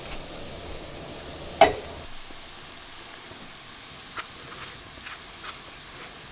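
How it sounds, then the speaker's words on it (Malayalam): Coriander powder fries in a pan for chicken kurma, making a quiet, soft sizzle with scattered small crackles. One sharp clink comes early on. "അപ്പോൾ മല്ലിപ്പൊടിയും ഇതിനകത്ത് കിടന്നിട്ട് നന്നായിട്ട് മുരിഞ്ഞിട്ടുണ്ട്"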